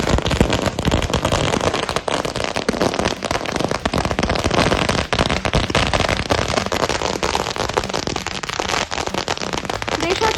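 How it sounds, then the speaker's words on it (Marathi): Dense strings of firecrackers burst continuously in rapid, loud crackling pops for several seconds, close by, at a street celebration in Amravati. "फटाक्यांची आतषबाजी करत मोठा जल्लोष"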